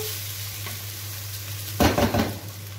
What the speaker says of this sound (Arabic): فبتديله تقلبتين كده مع البصل زي ما احنا شايفين كده